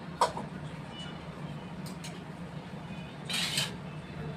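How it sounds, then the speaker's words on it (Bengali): A metal kadai is set down on a home kitchen stove before a fish and taro curry, giving a sharp clank near the start and a brief scraping clatter later over a low, steady background hum. "আমি এখানে কড়াই বসিয়েছি"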